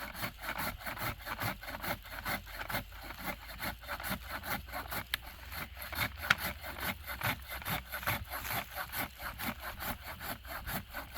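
An EZ KUT Kamikaze 20-foot extending pole saw cuts through a tree trunk with a steady, rhythmic run of rasping back-and-forth strokes. Each stroke is clear and close, with no talk.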